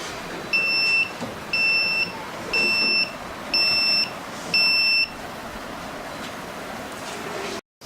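A school science-project street light built with an IR sensor and LED sounds its buzzer in five evenly spaced, sharp electronic beeps, each about half a second long, clear above a low room hum.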